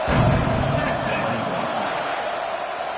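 A packed stadium crowd at a college football game involving Duke buzzes loudly after a score, a dense, steady roar of many voices that eases slightly over a few seconds.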